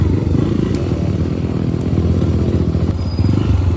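A dirt bike on the Pelon Trails in Bulacan runs steadily under throttle, its loud close engine droning with a rough, clattery texture and no talking.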